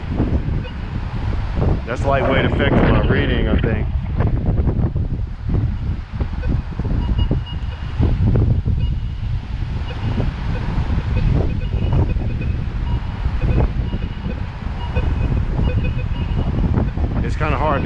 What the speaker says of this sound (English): It's kind of hard to read with all the wind.